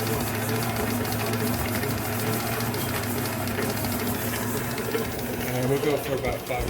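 A stand mixer kneads pizza dough for a Hawaiian pizza with a steady, loud mechanical hum and rhythmic churning that runs throughout, while a person talks over it.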